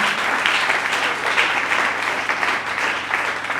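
A church congregation at a Sunday service breaks into sustained applause, a dense, even wash of clapping from many hands that holds steady for the whole stretch.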